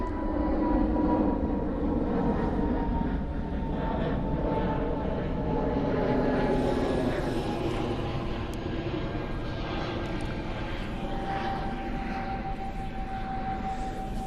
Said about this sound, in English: Another one taking me by surprise. That was quick for him. Okay, that's a BA.